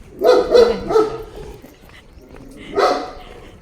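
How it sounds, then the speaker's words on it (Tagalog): A big dog barks three times in quick succession, pauses, then lets out one more deep bark, close by. "Aso malaki yun."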